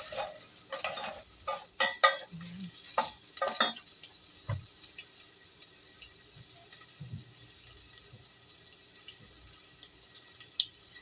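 Onions sautéing in oil with a little added olive oil in a pan, a faint sizzle under clustered clinks and scrapes of stirring, busy at first and then thinning to sparse taps.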